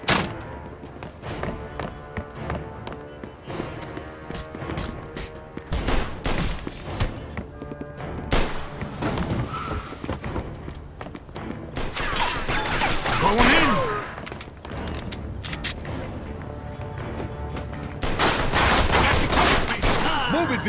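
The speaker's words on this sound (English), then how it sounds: "Stop shooting that fucking thing." Repeated gunfire from a shootout in the Mafia 2 video game, with bursts of shots, thuds and crashes running steadily throughout, loud and close, with shouted dialogue over it.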